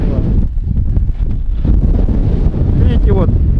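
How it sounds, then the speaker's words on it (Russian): Strong squally wind gusting across a shore at dawn in Yakutia, battering the microphone with a loud, continuous low roar and buffeting, with a voice briefly audible in the gusts. "Смотрите, через несколько минут уже под утро ударил такой шквальный ветер."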